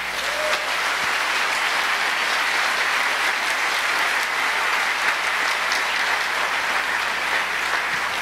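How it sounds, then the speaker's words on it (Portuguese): A large church congress audience applauds steadily and loudly throughout, a dense, continuous wash of hands with no pauses and no talking. "Se você crê assim, aplauda Jesus."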